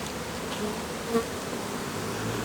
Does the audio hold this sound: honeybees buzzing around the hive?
yes